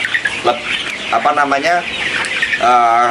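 Broiler chickens in their seventh week cluck inside a poultry barn, several close, loud calls coming in irregular bursts, the last one long and drawn out.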